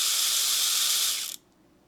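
VESSEL 400ER electric ratchet with a 3/8 adapter spinning at 400 RPM, a steady loud bright whirring buzz that runs for over a second and then cuts off abruptly into near silence.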